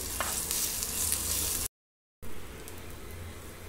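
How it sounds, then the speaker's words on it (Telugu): Ginger garlic paste fries with mustard and cumin seeds in hot oil for a stuffed masala idli, giving a continuous crackling sizzle with stirring that breaks off briefly mid-clip and then resumes a little quieter. "అల్లం వెల్లుల్లి పేస్ట్ అంటే పచ్చివాసన పోయే వరకు ఫ్రై చేసుకోవాలి"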